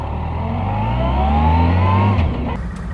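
A Yamaha FJR motorcycle engine pulls away loud and close, its steady drone climbing in pitch as the bike accelerates, then easing off near the end.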